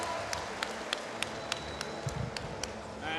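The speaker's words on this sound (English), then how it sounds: "Takes the applause of the Kazakh crowd here." Kazakh crowd applauding a boxing champion after a men's heavyweight (91kg) final, a steady wash of clapping and cheering from a large arena audience that continues throughout, with sharper claps popping out above the roar.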